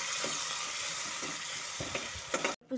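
Chili flakes are being stirred into egg 65 in a sizzling pan, with a steady frying hiss and a few soft scraping strokes, close and without speech, ending in a brief dropout.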